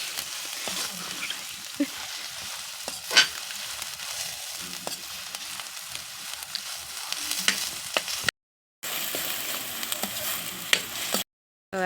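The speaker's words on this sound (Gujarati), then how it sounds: "હવે આપણે એમાં ડુંગળી નાખી દઈશું." Onions fry in a pan over a clay country stove for Manchurian, a continuous moderate sizzle with scattered crackles and spatula scrapes, broken by two short silent gaps.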